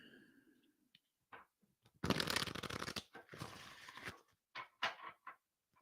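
Playing cards being shuffled up close, a dense riffling burst followed by shorter flicks and taps, with quiet gaps between handling sounds.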